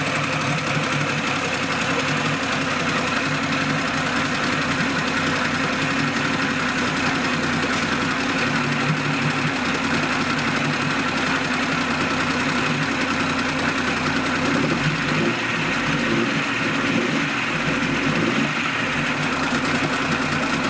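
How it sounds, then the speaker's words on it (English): An outboard boat motor, one of a Johnson 30 hp or Mercury 50 hp, runs steadily and loudly at close range for the whole stretch, with a constant rough engine drone and slight knocking texture, no talk. "engine runs really good now."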